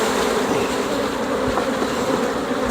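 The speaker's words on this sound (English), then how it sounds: "I need to go ahead and try to dump" Honey bees shaken off a hive frame while a resource hive is moved into an Apimaye nucleus hive give a dense, steady buzzing close by, with a faint thud partway through.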